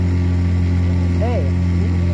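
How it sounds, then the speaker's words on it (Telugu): A double-engine speedboat at Puducherry gives off a loud, steady low drone with a constant humming tone, and a voice cuts in briefly over it. "అదిగోండి అక్కడ ఉంది రే స్పీడ్ బోట్."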